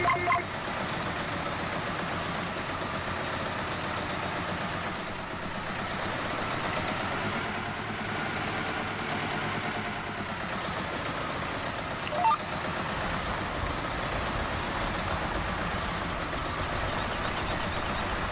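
A John Deere 850 two-cylinder tractor of 95 horsepower, in Farming Simulator 17, runs steadily throughout with a constant mid-pitched engine drone and no talking.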